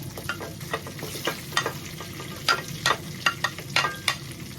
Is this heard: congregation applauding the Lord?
no